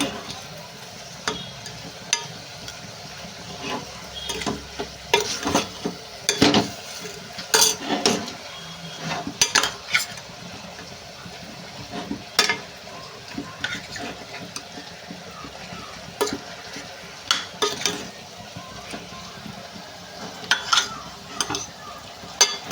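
Chicken coated in masala with raw mango is stirred in a pan, spatula clinks and scrapes against the metal coming in irregular bursts over a low continuous sizzle.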